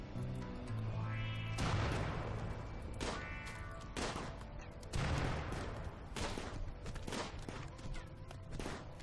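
Colonists trade gunfire in the video game Rimworld, with scattered sharp shots and bursts popping over a busy game-music bed for several seconds, no talk.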